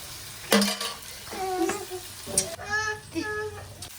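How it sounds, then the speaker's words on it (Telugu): A spoon stirs a thick spiced gravy in a pan, giving a soft bubbling sizzle broken by several squeaky scrapes and clunks against the metal, close and moderately quiet. "ఇదో ఇలా అయితే కలిపేసుకోవాలి"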